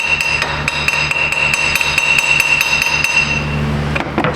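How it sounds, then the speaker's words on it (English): Steady hammer taps strike near a knock sensor on a 2007 Chevy Classic, about a dozen sharp metallic knocks at an even, quick rhythm, loud and close with no talk, ending in a slightly different final strike. "Okay, let's get a hammer."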